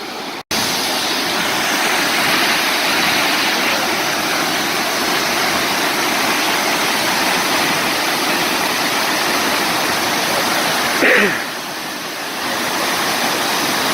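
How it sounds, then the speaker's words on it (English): A large waterfall at Ribbon Falls in Kananaskis roars steadily and loudly throughout, a dense unbroken rush of falling water close by with no voices. "Now these are some serious waterfalls."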